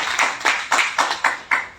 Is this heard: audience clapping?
yes